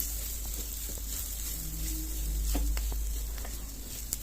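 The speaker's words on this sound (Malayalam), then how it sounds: "സിമ്മിൽ വെച്ചിട്ട് വേണം ഇതൊന്ന് മൂപ്പിച്ചെടുക്കാൻ" Spice powders roast in a pan over a low flame for a Kerala-style green peas curry, giving a steady soft sizzle with faint scraping stirs and a low hum underneath, no talking.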